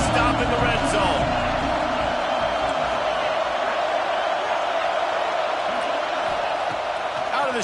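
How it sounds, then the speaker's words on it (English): Loud football stadium crowd roaring behind the defense in a red-zone stand during a college game between FSU and Auburn, a broad sustained cheer that swells early and slowly eases off, with commentary voices over it. "The crowd getting behind this defense as they try to get a stop in the red zone."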